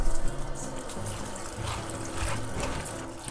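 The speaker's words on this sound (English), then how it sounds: "So we wanna rinse in cold water." Steady running cold tap water splashes continuously over cabbage being rinsed, moderately loud and close, with no talking.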